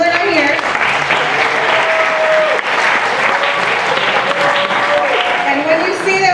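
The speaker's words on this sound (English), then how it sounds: "So if we can give them a round of applause even though they're not here." Audience applause at a festival closing, loud and sustained for several seconds, with a high tone and faint voices threaded through the clapping.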